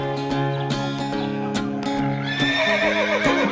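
A horse whinnies over steady music with rhythmic clip-clop beats in a children's farm singalong song; no talking.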